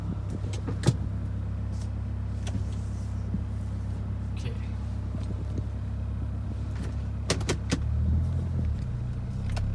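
Toyota car with a factory automatic transmission on a test drive, its steady engine and road hum running low underneath, with occasional clicks and knocks in the cabin and someone talking over it.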